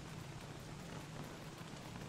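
Steady hiss of rain falling in the survival video game Don't Starve Together, a constant even wash of noise at moderate volume with no voices.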